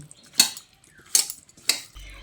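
A utensil knocks and scrapes three times against a metal dish while sesame and mustard paste is mixed into flat beans, each clink sharp and close with quiet gaps between.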